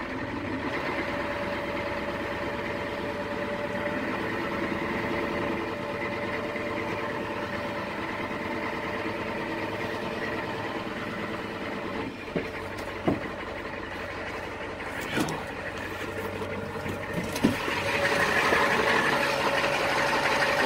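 An old-body Ford F450 truck idling beside a barn, its engine running in a steady rumbling drone with a few knocks and clunks near the end as the idle rises slightly.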